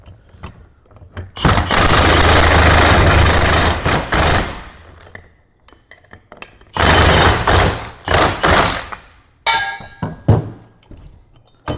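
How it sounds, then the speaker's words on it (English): A cordless impact wrench hammers bolts while fastening a wheel kit onto a landscape rake, loud rattling bursts of several seconds each, then shorter clattering pulses and a few metallic clinks. "also with the impact here, the cordless"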